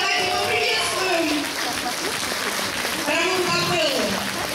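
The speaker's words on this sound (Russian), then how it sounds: "Ваши аплодисменты, дорогие друзья," Audience applause at a choir concert, broad sustained clapping from a large hall crowd while a presenter speaks over it.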